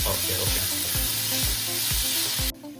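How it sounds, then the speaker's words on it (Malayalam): Onions sautéing for rajma curry, a loud dense sizzle from the pan holding steady, with faint rhythmic stirring scrapes underneath, cutting off abruptly near the end. "ഉള്ളി ഗോൾഡൻ ബ്രൗൺ ആയി വരുന്നവരെ നമുക്ക് ഇതിനുള്ള സോട്ടേ ചെയ്യാം"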